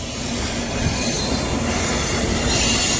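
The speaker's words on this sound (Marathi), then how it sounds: "आणि रेल्वे जायला लागली" A Jaipur metro train pulls away from an elevated station, with continuous loud rumble, wheel squeal and rail noise, close and steady throughout with no talking.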